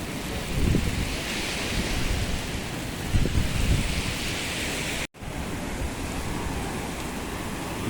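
Heavy rain pours down beside the sea on a stormy day, a steady, loud broadband hiss with a few brief thumps and swells, uninterrupted except for one short cut.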